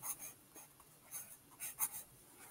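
A pen writes a word on paper in a few short, scratchy strokes with small pauses between them. The strokes are close and fairly soft, and no one speaks.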